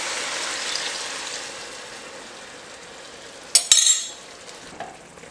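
Dinuguan, a Filipino pork blood stew, heating in a pot just after vinegar is added, giving a steady soft hiss with a few sharp utensil clanks partway through.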